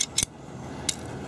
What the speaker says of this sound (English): A couple big pairs of scissors.